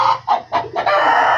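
Chickens cluck and squawk in short repeated bursts close by, ending in a longer sustained call, from hens and a rooster kept in a cage.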